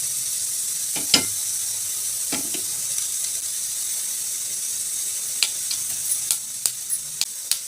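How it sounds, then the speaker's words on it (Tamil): Mustard seeds and urad dal spluttering in hot oil in a pan, a steady sizzle broken by sharp pops, a few early and then a quick run of crackles near the end, close and without talk. "கடுகு பொரிஞ்சிடுச்சுங்க"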